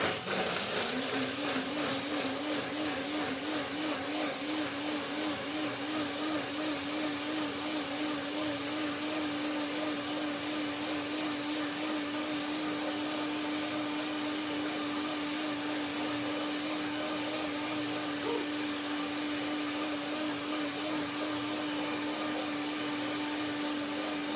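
A kitchen blender whirring through cashew yogurt, a steady high motor drone with a sustained tone that spins up at the start and then holds evenly for the whole stretch, loud and close with no talking.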